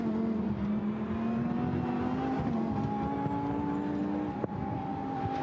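Lamborghini Super Trofeo race cars at the Nürburgring, a steady loud engine drone holding high revs and climbing slightly in pitch as they power out of a turn, with a brief sharp knock near the end.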